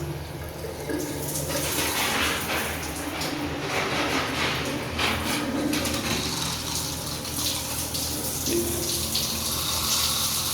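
Water runs steadily from a tap fed by a backup pump in a condo bathroom during an inspection. It makes a continuous, fairly loud rushing wash. Birds coo faintly in the background.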